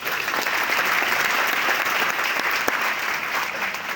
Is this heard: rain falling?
no